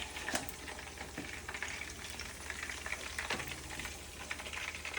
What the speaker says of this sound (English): Spin that around, stir it up.